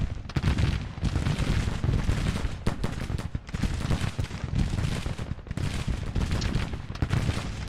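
Musket volleys crackle across a Grand Tactician battlefield, dense overlapping gunfire rolling in waves with heavy low booms, loud and continuous through the clip.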